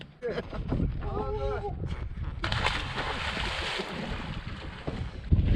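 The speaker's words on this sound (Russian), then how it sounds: "Ветер поднялся холодный еще, как назло." A cold wind gusts across the microphone outdoors near water, a rough, rumbling roar that swells and fades beneath the voices of people talking.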